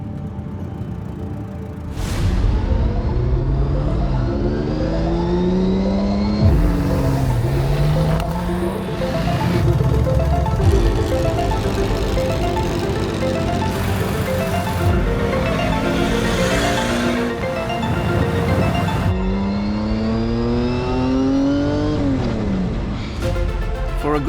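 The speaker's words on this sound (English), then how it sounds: "the banks of the Seine vibrate to the sound of engines heading towards Vaux-le-Vicomte for the official start" Vintage cars start the 2025 Tour Auto beside the Seine in Paris, engines revving loudly through rising and falling sweeps as several cars accelerate and pass close by, one after another, with no speech.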